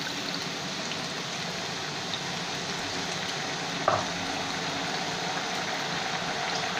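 Sugar syrup with amla, ginger and cloves bubbling in a pan, a steady even sizzling simmer throughout with one brief clink midway, no voices.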